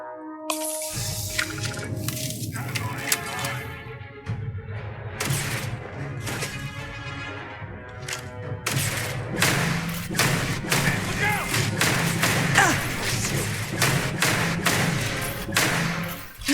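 Gunfire rattles through a firefight in Starfield, with repeated sharp thuds and cracks in irregular bursts over a steady low game hum, and a voice speaking at times.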